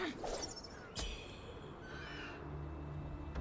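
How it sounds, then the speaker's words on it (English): A bird calls in the video game Wuchang: Fallen Feathers, with a few short chirps and a thin whistled call over the game's steady background ambience, while a person talks in between. "I hear a bird. I don't see it."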